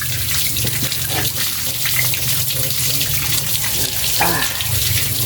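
Water runs steadily from a tap while a dog is bathed, a continuous close splashing stream with faint voices underneath.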